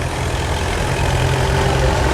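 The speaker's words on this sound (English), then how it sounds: "That John Deere B." A John Deere B tractor engine idles steadily at an outdoor festival, a low rumbling chug that stays constant and fairly close for a couple of seconds.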